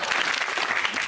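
Studio audience at a comedy panel show breaks into dense, steady applause, loud and close throughout the brief moment, with no voices over it.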